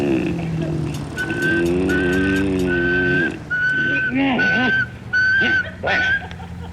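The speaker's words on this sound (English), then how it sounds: "They say if you whistle in a monotone, maybe that'll work." A person whistles a flat, steady monotone tone in a repeated pattern over a steady engine-like rumble from the L.A. Noire game scene, with a few breaks between phrases.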